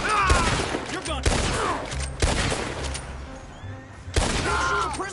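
Gunfire in the western video game Red Dead Redemption: a handful of sharp, loud shots spaced about a second apart, each cracking over a low rumbling game backdrop with faint voices.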